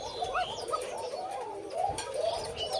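White Koka pigeons cooing in soft repeated low warbles, several birds overlapping steadily, with faint higher chirps in the background.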